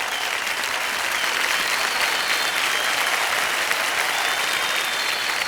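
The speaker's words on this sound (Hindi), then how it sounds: "बहुत बहुत बधाई, जोरदार तालियां बज जाए विमल जी के लिए" A studio audience on KBC Season 14 breaks into steady, loud applause for contestant Vimal, a dense wash of clapping that holds evenly throughout without a break.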